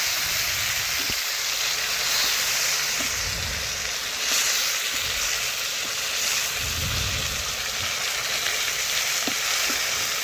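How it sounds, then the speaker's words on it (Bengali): Steady loud sizzle of fish frying in hot oil, a continuous hiss throughout with faint clatter underneath. "দুপাশে ভালোভাবে একটু কড়া করে ভেজে নেব"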